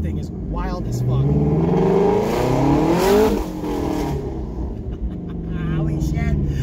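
A twin-turbo Ford Mustang GT350 running on E85 accelerates hard, its engine revving in a loud, rising roar with climbing harmonic sweeps that peak and drop as gears change, heard from inside the car.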